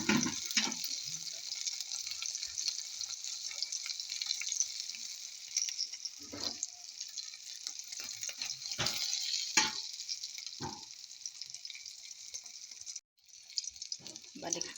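Eggplant omelette (tortang talong) fries in a pan, a steady bright sizzle with bursts of crackling and scraping as it is moved, close by, briefly dipping near the end.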